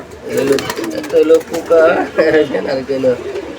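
Pigeons at a pigeon breeding farm give repeated rolling coos close by, with someone speaking over them.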